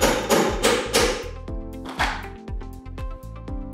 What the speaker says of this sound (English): we take our hammer and we hammer it through.